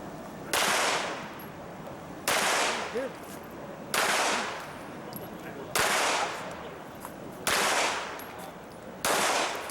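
Six pistol shots spaced roughly evenly over ten seconds at an IDPA shooting match, the shooter firing left-handed; each crack is sharp and loud, with a decaying outdoor echo tail.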